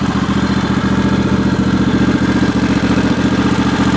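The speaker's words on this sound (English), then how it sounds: "is the V-Twin Kohler Pro 20 horsepower V-Twin engine on this one right here" A Kohler Pro 20 horsepower V-Twin overhead-valve engine on a Craftsman DLT 3000 garden tractor runs at a steady idle, loud and close, with an even rhythmic clatter and no talking.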